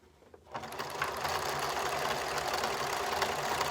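A sewing machine stitching a fabric mask starts up after a quiet half second and runs in a fast, steady mechanical chatter close by, without speech.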